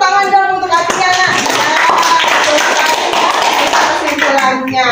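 A school science class claps for a student named Atia, a loud, close burst of hand clapping that runs steadily throughout, with a teacher's voice audible over the claps at the start and end.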